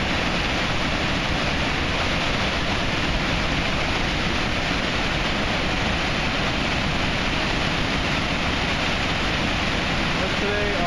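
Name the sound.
flooded Esopus Creek during Hurricane Irene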